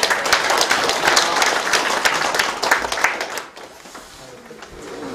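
An audience at a town meeting with citizens applauds the mayor, with brisk, dense clapping for about three seconds that fades away, leaving quieter room sound.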